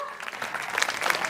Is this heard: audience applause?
yes